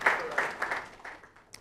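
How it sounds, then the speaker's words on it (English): Brief burst of audience applause at a televised discussion event, a few loud claps that quickly thin out and fade within under two seconds. "A round of applause to him."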